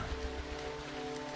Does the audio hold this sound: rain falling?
yes